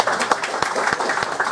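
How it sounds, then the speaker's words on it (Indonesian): A burst of applause with sharp individual claps popping through a dense patter of hands, steady and fairly loud throughout. "Kita kasih tepuk tangan beliau"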